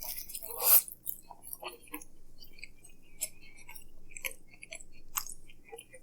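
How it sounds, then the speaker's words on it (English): Someone chewing DiGiorno pepperoni pizza up close: soft, wet, irregular mouth clicks and squishes in a quiet room, with one louder rustle near the start. "I know you're chewing"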